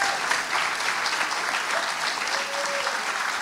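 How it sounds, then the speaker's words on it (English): An audience claps together, a steady wash of applause holding at moderate volume throughout. "Give them a big hand clap."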